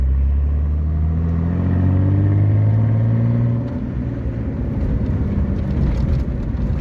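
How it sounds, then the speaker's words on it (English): A car accelerating in second gear after a shift, its engine a loud, steady low drone with pitch climbing smoothly over several seconds, then settling into a rougher rumble. "Alright, you can go into second gear."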